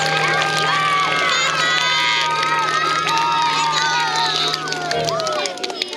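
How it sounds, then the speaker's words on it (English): An audience of kids and teachers cheers loudly, with shouting and excited children's voices over a sustained low hum that cuts out near the end. "One more round of applause for these kids, these teachers."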